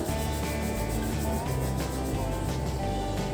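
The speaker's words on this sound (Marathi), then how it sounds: "थोडेसे जिरे घ्यायचं आहे हातावरती असं चोळायचं" Cumin seeds are rubbed between the palms over a breakfast batter, a close, continuous dry rasping and crackling texture with no speech over it.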